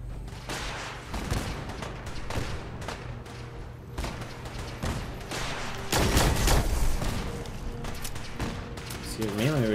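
Gunfire in the Fallout 4 video game rattles in dense bursts through the whole stretch, with heavy blasts around the middle and a voice talking over the shooting.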